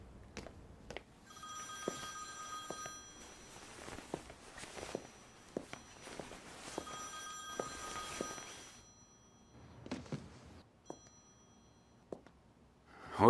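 A telephone rings indoors in repeated bursts of bright electronic trilling, fairly quiet, with footsteps and light knocks in between and no talking.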